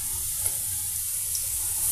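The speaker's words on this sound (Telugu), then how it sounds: "నెక్స్ట్ మళ్ళీ బాణలీలో కొద్దిగా ఆయిల్ యాడ్ చేసేసి ఆయిల్ వేడెక్కాక సెకండ్ టైం మళ్ళీ ఇవి అదేనండి ఈ చిప్స్ని అందులో యాడ్ చేసి ఫ్రై చేసుకుందామండి" Potato French fries getting their second fry in hot oil in a kadai, giving a steady, even sizzle and bubbling close by, with no voices over it.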